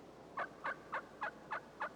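A wild turkey gobbles six times in a steady, evenly spaced series, clear and moderately close against a quiet background.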